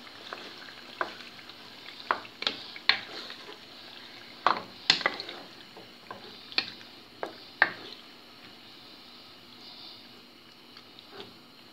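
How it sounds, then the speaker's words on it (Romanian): Tomato sauce with pulp being stirred into cabbage in a pot while cooking pork ribs, with soft scraping and clinking strokes at an irregular rhythm over a low simmering sizzle, close up and fairly quiet, no talking. "Adăugăm sosul de roșii cu pulpă. amestecăm."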